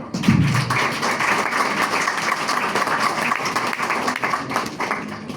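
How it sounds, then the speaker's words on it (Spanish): Audience applause at a talk introducing a student speaker from the Partido Comunista Revolucionario, dense clapping sustained for several seconds with a few louder thumps near the start. "Un fuerte aplauso"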